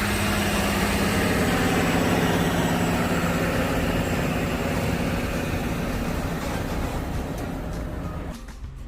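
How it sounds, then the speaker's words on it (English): A dump truck's heavy diesel engine rumbles loud and steady nearby in Queensland, Australia, a deep continuous drone that slowly fades slightly toward the end. "And this time it is a dump truck."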